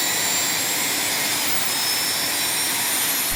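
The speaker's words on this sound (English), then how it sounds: "This is the Alligator attack helicopter." The Alligator attack helicopter, with a combined 5,400 HP of power, gives off a loud, steady turbine roar and whine that stays constant throughout, with no speech.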